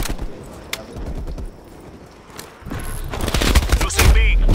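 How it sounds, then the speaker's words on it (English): Rapid gunfire in a Call of Duty Cold War multiplayer match, dense automatic bursts and scattered shots growing louder and closer toward the end, with a player talking over it. "Right behind them, there's people shooting at me."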